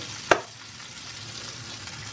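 Butter sizzling as it hits a hot frying pan, with a sharp clatter at the start and then a steady soft frying hiss throughout.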